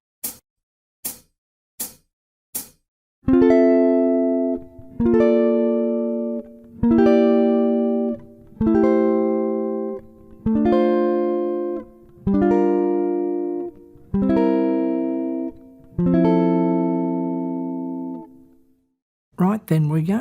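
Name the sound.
jazz guitar playing a diatonic chord progression, Barry Harris voicings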